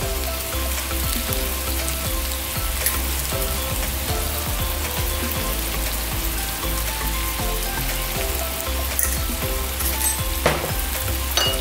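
Spicy Palm corned beef is stir-fried in a pan with soy sauce and sugar, giving a steady, dense sizzle with frequent scraping and clinking stirs of the utensil, close up and continuous throughout.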